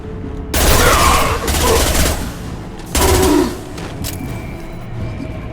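Automatic gunfire rattles in loud sustained bursts during a Mass Effect 2 firefight, with three heavy volleys separated by brief lulls and a lingering background din.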